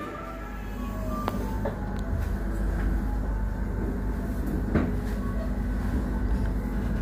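The Lodaya passenger train pulls out of Tasikmalaya station, a steady low rumble of wheels and carriages rolling past at night, with a few sharp clanks over a continuous drone.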